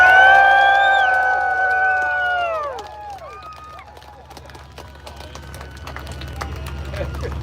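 A crowd at a tank show, with loud whistles and shouts at the start giving way to scattered claps and cheering that thin out, then a softer murmur of applause near the end.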